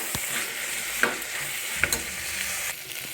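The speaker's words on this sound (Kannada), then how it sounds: "ಈ ಎಣ್ಣೆ ಸ್ವಲ್ಪ ಕಾಯ್ದ ನಂತರ ತಗೊಂಡಿರುವಂಥ ಮೊಳಕೆ ಕಾಳನ್ನು ಸೇರಿಸ್ತಾ ಇದ್ದೀನಿ ಇದನ್ನು ಚೆನ್ನಾಗಿ ಉರಿಯಿರಿ" Sprouted legumes sizzling in hot oil in a pan, a steady fry hiss broken by a few sharp scrapes and clinks of the stirring spoon.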